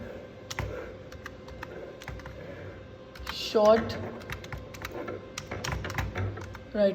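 Fingers tapping out a prompt on a computer keyboard, quick irregular clicks in bursts, close and moderately quiet, with a voice speaking briefly partway through.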